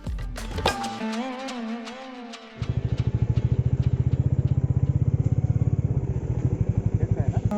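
A motorcycle on an open road between Mumbai and Nashik, its engine pulsing in a fast, steady, close throb that takes over after a stretch of voice and tonal sound at the start.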